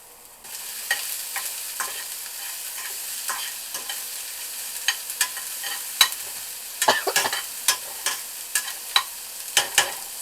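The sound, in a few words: garlic and chilies frying with onions in pan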